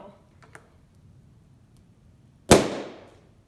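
A rubber balloon held over a lit candle bursts with a single sharp, loud pop near the end, its bang trailing off briefly after a few faint ticks and quiet room noise.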